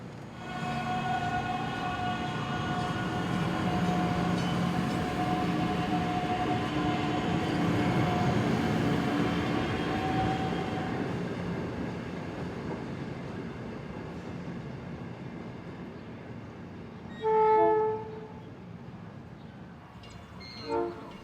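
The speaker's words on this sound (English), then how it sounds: "From the same spot, another westbound NICTD approached the station." A westbound NICTD passenger train approaches the station at 11th Street in Michigan City, Indiana, with a steady rumbling roll that slowly fades, then a short horn blast near the end.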